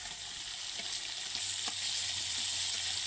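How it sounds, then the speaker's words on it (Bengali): Onion paste and half-melted tomato frying in a hot pan for a potol chingri curry, a steady close sizzle that swells louder midway and keeps going with no one talking. "এবার দিয়ে দেবো পেঁয়াজের বাটা"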